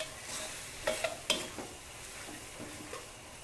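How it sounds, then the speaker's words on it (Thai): Squid with red curry paste and fresh bamboo shoots stir-fried in a pan: scraping stirring strokes and a soft sizzle, with a few sharp clinks of the utensil against the pan, up close and with no one talking. "ผัดหมึกตึงแบบนี้แล้วค่ะ เราก็ใส่หน่อไม้สดลงไป"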